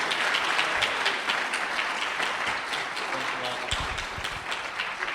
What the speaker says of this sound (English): let's give a big round of applause to our guest speakers, Roy and Maggie